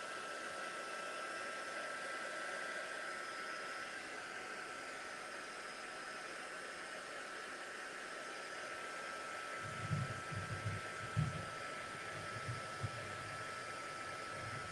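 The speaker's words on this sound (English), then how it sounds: "I didn't just hold the heat tool in one place and wait for it to solidly dry. I kept on moving it." A heat tool blows a steady, soft whooshing hiss over mixed media paint to dry it, continuous and fairly quiet, with a few light knocks and a brief word near the end.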